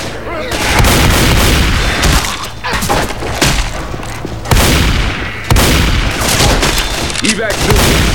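Gunfire in the zombie shooter Left 4 Dead 2, including a sniper rifle: repeated loud, sharp cracks and booms in irregular bursts, close and forceful, with game voices and noise mixed underneath.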